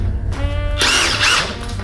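Power tool drilling on a Honda Goldwing GL1800 fork during fork seal work: a steady mid-pitched whine that surges louder and harsher partway through, running close and alone for under two seconds.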